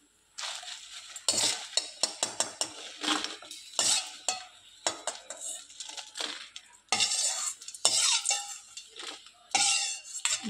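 Mint leaves fry in a pan while a spoon clatters and scrapes in frequent busy bursts against the metal, with a light sizzle between strokes, close and clear, without talk.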